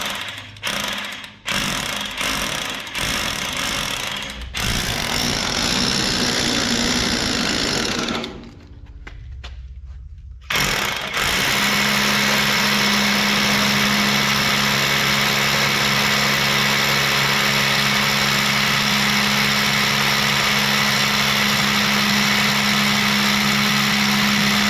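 A drill bores a hole in a garage floor to mount a BendPak XPR-10S two-post car lift. It runs loud and close in harsh stuttering bursts, then drones steadily for a long stretch after a short pause.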